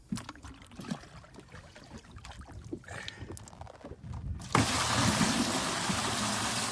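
Seawater drawn up from the clear sea off Tusa beach in Sicily, from a boat offshore, starting as soft sloshing and trickling, then a sudden steady loud rush of water, close with no talk.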